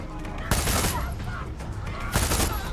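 Bursts of heavy gunfire in Far Cry 6, two loud broadband volleys about a second and a half apart over a continuous din of shooting, close and dense, with no talk.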